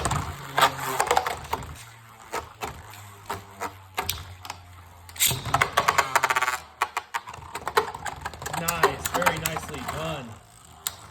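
Beyblade Burst tops, including Guard Draciel and Crystal Dragoon, clattering and scraping in a stadium, with rapid irregular clicks and knocks and a bright metallic whir midway, under a voice talking.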